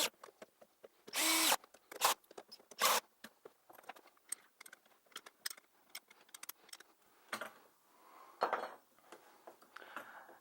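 Bolts being tightened on the handlebars of a Repti 800W 36V electric quad during assembly, heard as quick ratcheting zips and short mechanical bursts, with brief pauses between scattered small clicks and taps, close by and with no talking.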